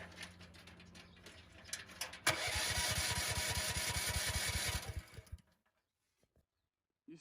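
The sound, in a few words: Briggs & Stratton 13 hp engine starting on mini excavator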